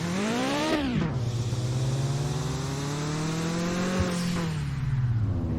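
A car engine in the Mon Bazou video game revs up, drops sharply, then holds a steady drone before a second brief rise and dip, loud and close throughout.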